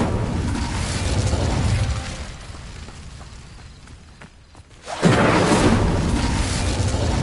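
Incendio fire spell effect in a magic school game: a rushing, whooshing roar that fades to a low lull, then bursts back loudly and keeps crackling.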